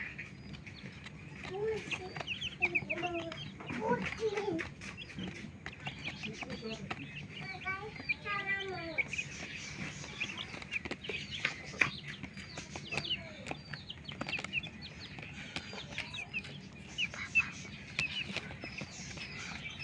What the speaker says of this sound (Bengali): এটা গোল্ডেন স্যাপলেট আর এগুলো হচ্ছে সিল্কি মুরগির বাচ্চা।